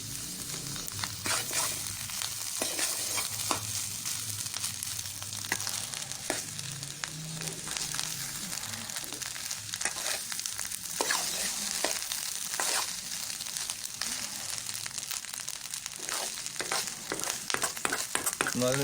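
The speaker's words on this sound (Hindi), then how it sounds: "चम्मच से हमने अच्छी तरीके से इसमें मिक्स कर लिया मक्खन को" Egg fried rice and butter stirred with a spoon in a hot frying pan, steady close sizzling and frying with repeated scraping and stirring strokes throughout, no talking.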